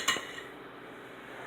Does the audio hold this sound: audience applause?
no